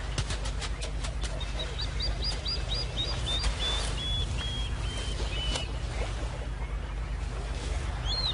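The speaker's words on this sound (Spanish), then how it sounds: "Y los alborotados chorlitos le declaran la guerra inmediatamente." Plovers call noisily at a riverside waterhole among crocodiles and a monitor lizard, a series of sharp, rapid piping notes repeated in quick succession over a steady low rumble of wind or water.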